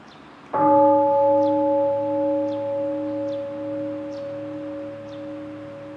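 A single bell is struck once and rings out with a long, steady, sustained tone that slowly fades. Faint high chirps recur in the background, and no one speaks.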